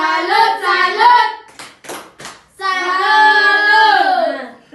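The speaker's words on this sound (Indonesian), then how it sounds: "tepuk salut untuk kalian semua dulu" Children in an early-grade elementary classroom perform a rhythmic chant-and-clap salute: three sharp, evenly spaced hand claps fall between loud chanted vocal phrases.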